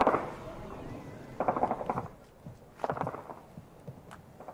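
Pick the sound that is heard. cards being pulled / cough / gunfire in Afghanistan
gunfire in Afghanistan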